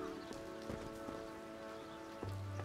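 Steady rain falling in the video game Last Time I Saw You, a soft continuous patter heard alone over a low ambient music bed, with a few brief soft knocks.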